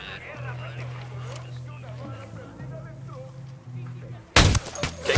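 A single sharp sniper rifle shot in the video game Ghost Recon Wildlands, a loud close crack near the end following quiet in-game ambience and voices.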